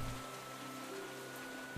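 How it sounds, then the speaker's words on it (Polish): Steady rain hisses in the Minecraft video game, a continuous soft wash of falling drops with no distinct impacts, holding at an even level throughout a short stretch. "Ja słyszę, słyszę deszcz, a nie pada."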